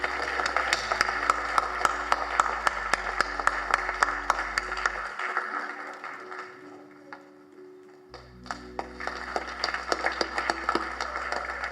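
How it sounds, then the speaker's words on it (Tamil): An audience at a speech event gives a sustained round of applause with sharp, rapid claps, softening briefly midway before swelling again, while a tonal musical hum runs underneath. "ஒரு பெரிய கைத்தட்டு கொடுத்துருக்கேன்ல."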